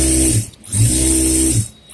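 A sewing machine runs while stitching a folded quarter-inch hem on a collarless coat, in two steady whirring runs separated by a brief pause.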